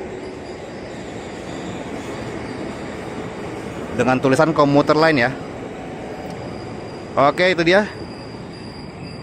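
Ten-car Tokyo Metro 6000 series KRL commuter train on the late-night Bogor line, giving a steady rumbling roar throughout; a voice speaks over it in two short stretches.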